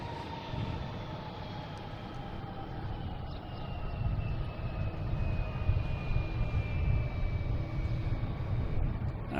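An airliner at Boston Logan International Airport roars steadily as it takes off or lands, a broad jet rumble that builds slightly in loudness over several seconds, heard alone from a distance with no voices.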